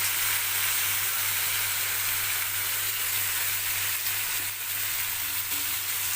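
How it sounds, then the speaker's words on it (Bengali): Ginger garlic paste fries in hot oil in a pan for badshahi chicken, a constant close, loud sizzle with a steady hiss and no speech over it. "এবারে আমি এর মধ্যে দিয়ে দেব আদা রসুনের পেস্ট"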